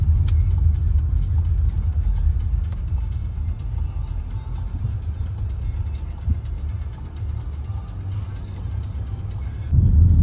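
A car drives along a busy street on the outskirts of Yeysk, its engine and tyre rumble steady and close throughout, swelling slightly louder near the end, with no talk over it.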